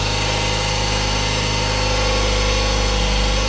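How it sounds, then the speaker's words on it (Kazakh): A Honda Odyssey engine idles steadily right after starting, a loud, constant low hum with steady vibration, close up and without voices. "Машина оталды"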